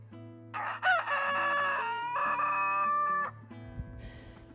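A rooster named Russell Crowe gives a loud, close cock-a-doodle-doo, one long drawn-out crow with a stepped rise and a held final note, followed by a few soft clucks. No voices are heard.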